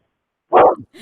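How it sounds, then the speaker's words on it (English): A dog gives one loud, close bark with a brief trailing grunt, then a softer yip starting after a short silence. "Wait, is that your dog?"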